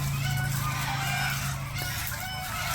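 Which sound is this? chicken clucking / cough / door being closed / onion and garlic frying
chicken clucking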